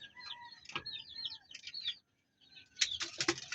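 Pigeons flutter and land at a loft, a few brief bursts of wing flaps close by, with soft bird calls and chirps in between and a short quiet gap midway.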